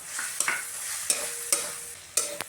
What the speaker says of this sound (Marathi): आता कढीपत्ता भाजून घेतल्यानंतर त्यात टाकूया आपण आलं लसूण चांगली भाजून